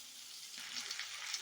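Steady sizzling of fish-roe fritters frying in a pan with spice paste, a dense hiss that brightens slightly partway through, close and moderately loud with no talking.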